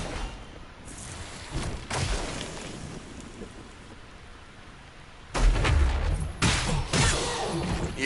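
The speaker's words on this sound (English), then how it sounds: "now that I know who's back there shooting at me" Bursts of gunfire from an enemy shooter in the video game Deathbound, several loud clustered volleys near the end over a steady rumbling, rain-like background.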